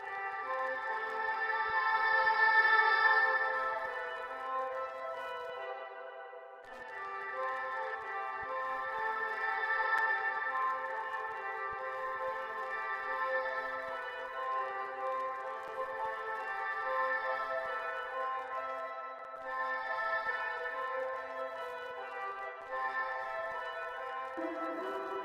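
A short musical fragment, reversed and drenched in heavy reverb during music production, swells as a sustained, washy harmonic pad that rises and fades in long smeared waves with no talk.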